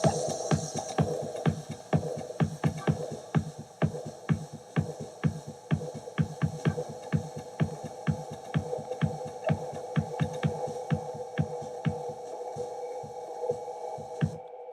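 Raw white-noise 8-bar loop playing in Ableton, a steady hiss and hum pulsed by a regular throbbing rhythm of evenly spaced hits that runs the whole loop, then cuts off near the end.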